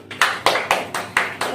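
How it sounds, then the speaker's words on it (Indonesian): Classroom applause during a microteaching chemistry lesson, heard as six sharp, evenly spaced claps in unison, close and loud, with no talk. "coba berikan tepuk tangan."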